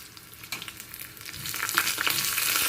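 Curry leaves and green chillies dropped into hot tempering oil, sizzling and crackling close by, the hiss building louder and denser toward the end.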